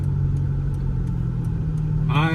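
A car running on Achilles ATR Sport 2 tires drives along with a steady, close engine drone and a rising rev at the end, heard under someone talking.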